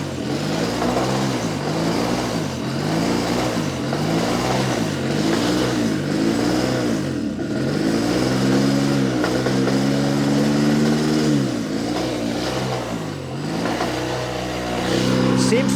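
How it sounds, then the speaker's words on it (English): A Motobecane Moby-X1 folding French moped engine, adjusted to run high at idle, alternates between steady idling and repeated revving surges, loud and close, with a person speaking briefly over it. "Seems to be rather aggressive at idle"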